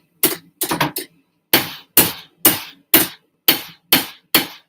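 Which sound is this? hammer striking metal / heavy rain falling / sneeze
hammer striking metal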